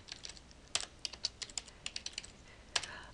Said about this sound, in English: all I need to do is type in their Linoit username